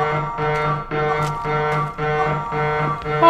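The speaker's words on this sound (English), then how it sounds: "That alarm was annoying as shit." An alarm blares in a horror video game, a loud, steady buzzing tone pulsing in repeated bursts about every half second with brief dips between.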